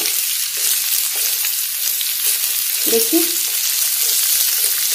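Ridge gourd peels sizzle and crackle as they fry in oil in a pan, a steady hiss with stirring clatter around the middle and a brief spoken word over it.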